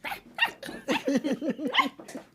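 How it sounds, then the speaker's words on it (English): A dog gives a quick run of short, yappy barks and yips, close by and fairly loud, with a few higher whiny notes mixed in. "he was like barking at her"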